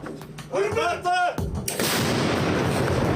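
A Bohdana self-propelled howitzer fires once, a deep booming blast with a long rumbling roar trailing after, preceded by a brief vocal sound.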